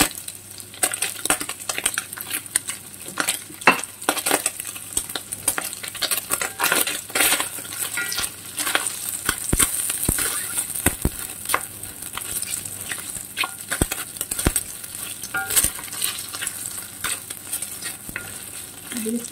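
Spam and vegetables frying in a pan for yakisoba, a steady sizzle with frequent sharp spatters and clinks of stirring utensils against the pan, close and continuous with no talking.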